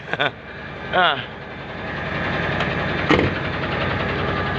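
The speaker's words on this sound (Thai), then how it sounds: "ฟังเสียงเครื่องรถมันนิ่มวะ" A car engine runs steadily at idle, a continuous mid-pitched hum with a faint knock, while someone talks over it in short bursts.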